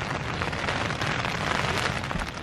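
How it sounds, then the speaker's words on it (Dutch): Rain falls on a tent during a downpour at a campsite in Abel Tasman Park, New Zealand: a dense, steady pattering that continues throughout, with no voices. "En het regent nu nog steeds."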